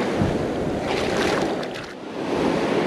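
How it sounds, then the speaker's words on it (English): Loud ocean surf breaking and washing onto a beach during summer surf fishing, a steady roaring wash with wind buffeting the microphone, close and continuous with no talking. "It's very loud out here with the waves"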